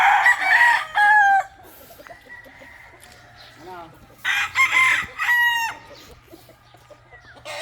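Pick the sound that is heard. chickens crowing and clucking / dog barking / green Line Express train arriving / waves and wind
chickens crowing and clucking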